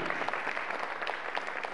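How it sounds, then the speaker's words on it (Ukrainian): Audience applause at the Miss Independence beauty pageant in Ivano-Frankivsk, a steady dense patter of many hands clapping throughout, fairly close and loud, with no voices over it. "Завжди добре, друзі, оплески, Олег Кудаша."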